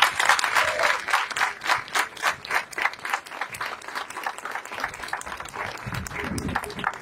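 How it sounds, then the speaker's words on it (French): An audience applauds at an October breast cancer awareness closing ceremony in Ermont, starting as rhythmic, near-unison clapping that loosens into scattered clapping, with a voice or murmur rising near the end. "Vous pouvez vous applaudir"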